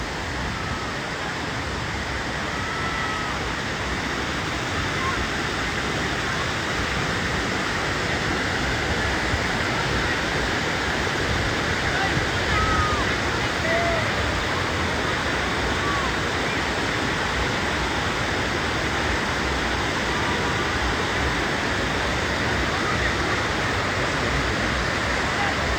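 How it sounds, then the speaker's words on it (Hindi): Dadar Waterfall in Kaghan, Pakistan, with water pouring down a mountainside in a constant, dense roar of rushing water, steady and loud throughout with no break. "ये सामने देखें, पहाड़ से पानी नीचे आ रहा है।"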